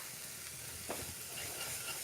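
Chole masala being stirred in a pan on a low flame gives off a steady, close, hissing sizzle, with faint scraping and one brief stir sound. There is no talking.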